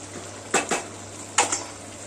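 A spoon knocks against a cooking pot while fish head muri ghonto is stirred, giving two pairs of sharp metallic clinks with quiet gaps between them, close and clear.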